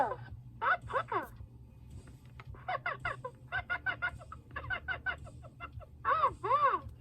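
A Tickle Me Elmo toy lets out warbling, buzzy bursts of laughter and talk in short repeated phrases, somewhat faint and distorted, with a steady low hum underneath.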